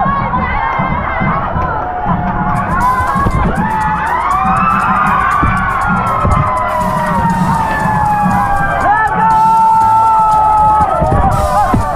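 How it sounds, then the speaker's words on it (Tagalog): A dense festival crowd in Tanza shouts and cheers loudly and continuously throughout, with voices overlapping near and far and rising swells of excited yelling. "Mapapasabay ka talaga sa sigawan ng mga tao dito."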